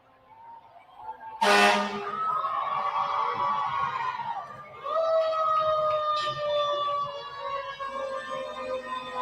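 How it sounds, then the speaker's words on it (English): Columbia Fire Department trucks in a homecoming parade sound a loud blast of horns, then a sustained harmonic horn tone holds for several seconds, sliding down and restarting with a second sustained blare, heard outdoors without talk. "Got the lights turned on. Giving that honk."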